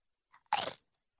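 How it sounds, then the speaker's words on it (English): A single sharp crunch as teeth bite into a fresh Doritos tortilla chip, close and loud, with a faint brief crackle just before and quiet after. "Oh, listen to that crunch."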